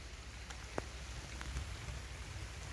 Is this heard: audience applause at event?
no